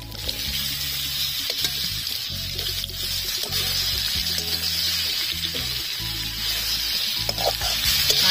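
Chopped apple sizzles in a pan with fennel, cumin and ginger, a steady close hiss broken by repeated scraping stirs, with no talk.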